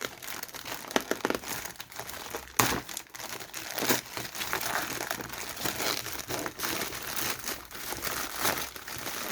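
Crinkling and crackling of a new alarm system's packaging being handled and pulled open, with scattered crunches and a louder tear partway through, close by with no talking.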